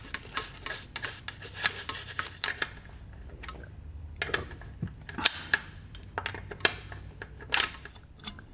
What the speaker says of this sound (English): I'm just going to brush a little bit of this corrosion and some of these barnacles off it.